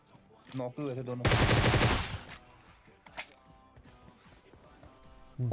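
A loud burst of rapid automatic gunfire in PUBG Mobile lasts about a second, surrounded by quieter game sounds and brief clatter.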